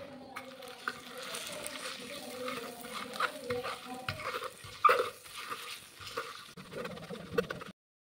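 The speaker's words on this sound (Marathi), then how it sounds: "आता आपण हे तांब्याने एकजीव मिश्रण करणार आहोत।" Garlic chili thecha pounded and mixed with a metal tumbler makes soft, irregular scraping and squelching sounds, close and quiet, with a sharper knock midway before stopping abruptly.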